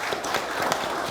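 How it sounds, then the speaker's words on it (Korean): Audience at a provincial government field meeting in Cheongsong claps together, a brisk dense patter of many hands with sharper individual claps standing out, loud and close, without speech over it. "박수 한번 쳐주십시오."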